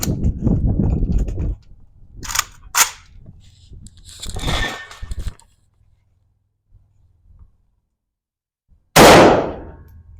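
Several 7.62x39 8M3 rifle rounds from 1996 Ulyanovsk production fired into ballistic gel blocks, sharp loud cracks in a short burst, then quiet, and one last loud shot near the end.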